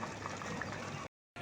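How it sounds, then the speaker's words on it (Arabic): Water boils in a pot for cooking pasta for home-made Egyptian koshari, giving a steady, dense bubbling hiss that briefly cuts out near the end. "تعالوا بقى الميه بتاعتنا غليت، هنحط المكرونه"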